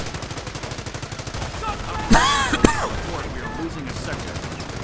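Rapid machine gun bursts rattle in a WWII strategy video game, with steady rhythmic fire through the clip and a couple of louder sharp impacts in the middle, while a commentator talks over the action.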